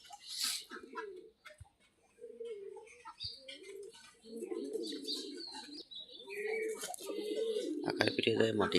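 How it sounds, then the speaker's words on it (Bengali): Pigeons cooing on a farm while pecking at soil, low soft coos repeating in bursts, with small chirps and a person talking over them. "কবুতর গুলো আবার মাটি খাচ্ছে দেখতেছি।"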